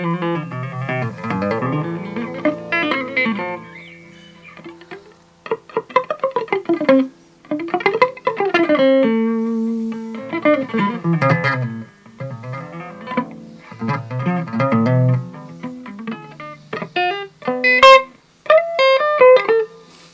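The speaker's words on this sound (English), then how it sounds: "I'll knock up the reverb again." Electric guitar played through a Fender Mustang II modelling amp on clean Bassman and Twin Reverb style settings with reverb added, ringing chords and single-note phrases in several bursts with short pauses between them, close and alone.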